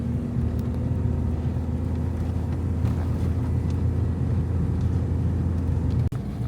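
A small car pulling a tiny camper climbs a long mountain road in second gear, a steady, loud engine drone heard from inside the cabin with road rumble and no voices.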